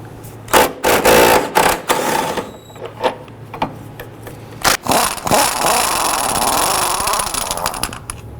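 Engine mount bolts being removed from a 2006-11 Honda Civic with a power tool, loud bursts of buzzing rattle broken by short pauses, then a longer sustained whirring run, close and harsh.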